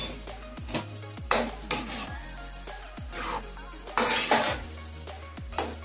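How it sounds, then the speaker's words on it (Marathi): A spoon stirring ghee into mango halwa in a metal pan, giving repeated clinks and scrapes against the pan in an uneven rhythm, close and fairly loud, with no talking. "आता यावर मी थोडे आणखी 2 चम्मच तूप टाकून देते आणि छान मिक्स करून घेते"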